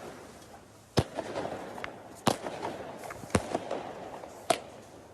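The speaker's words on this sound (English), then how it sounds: "pranksters in Manchester did just that in the early hours of this morning, setting off fireworks outside the Penrith Team Hotel" Fireworks go off outside a hotel in Manchester in the early hours: four sharp, loud bangs spaced about a second apart, with smaller crackling pops and a hiss in between.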